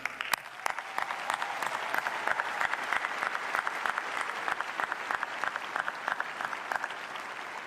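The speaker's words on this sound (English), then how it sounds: "Please join me in a round of applause for this incredible team." Audience at a spring university commencement ceremony gives a round of applause for a team, with sharp individual claps standing out against steady clapping that holds evenly throughout, fairly quiet and distant.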